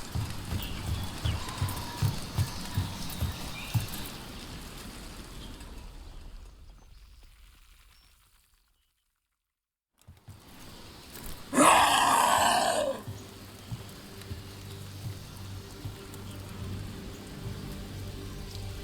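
Steady rain in the video game Dragon Age: The Veilguard, a constant hiss with clip-clop-like patter, dropping out to near silence mid-clip before a loud burst of effects and returning to the ongoing downpour.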